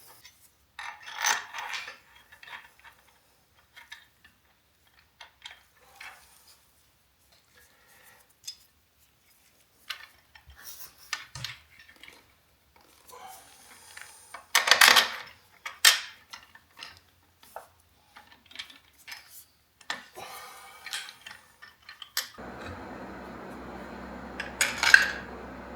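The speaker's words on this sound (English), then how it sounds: "Now I'll throw it in the sander." A sander starts up near the end and runs steadily to clean billet parts for 1050cc fuel injectors, after scattered light metallic clinks and taps from handling the parts.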